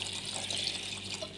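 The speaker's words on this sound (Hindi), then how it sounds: "तो थोड़ा सा इसके अंदर ना हम लोगों ने पानी ऐड करना है।" Water pours steadily into a pot of turnip and chicken curry (shaljam gosht) in a home kitchen, making a continuous close splashing hiss with no talk over it.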